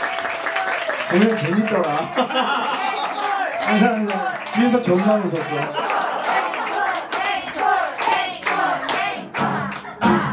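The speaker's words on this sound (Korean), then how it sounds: "황희식님께 뜨거운 박수 부탁드립니다" A crowd applauds at a small live show, with steady clapping throughout while people chat and laugh close by over it.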